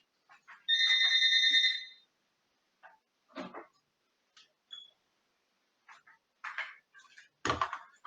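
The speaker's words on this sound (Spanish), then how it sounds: "Un momento que me timbre el teléfono." A landline telephone gives one shrill electronic ring lasting about a second, then scattered faint clicks and knocks follow in an otherwise quiet room.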